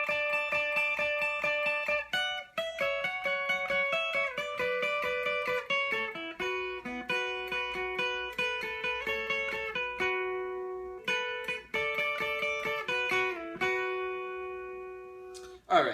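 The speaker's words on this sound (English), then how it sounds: "it's like a lick with double stops played on the high 2 strings." Electric guitar lick of double stops on the top two strings, a run of bright paired notes played cleanly and steadily for about sixteen seconds, with no talking over it.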